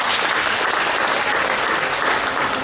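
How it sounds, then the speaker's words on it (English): Audience applause at a resort magic show: a brief burst of loud, dense clapping from the crowd, steady and continuous with no pause. "give him a round of applause"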